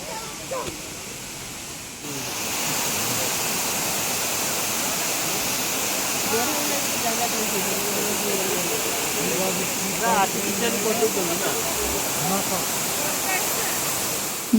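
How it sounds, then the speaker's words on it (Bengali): A waterfall in Meghalaya pours down in a steady, loud rush of water that fills the scene after a quieter opening, with faint voices underneath. "যে ঝর্ণাটা তোমরা দেখতে পেলে সেটা ওপর থেকে আবার নিচের দিকে গেছে"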